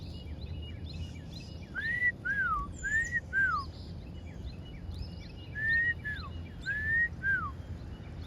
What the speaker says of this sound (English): It feels like I'm competing with the birds.